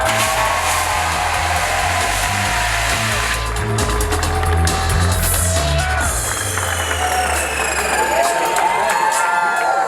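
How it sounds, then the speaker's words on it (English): A crowd at the NBA Experience grand opening at Disney Springs cheers and applauds loudly and continuously for Kareem Abdul-Jabbar, with shouts over a dense roar and a low rumble underneath. "you can give him an extra round of applause"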